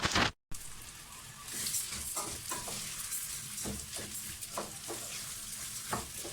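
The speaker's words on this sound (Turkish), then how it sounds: "Şimdi kavurmaya başlıyorum arkadaşlar ben bunu" Oil sizzles steadily in a pan while onions and lentils are stirred, with scraping and stirring knocks popping up at intervals over the continuous frying hiss.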